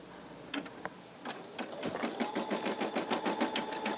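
A Baby Lock Verve embroidery machine starts up with a few isolated clicks, then settles into a fast, regular mechanical stitching rhythm, close and clear, with no talking.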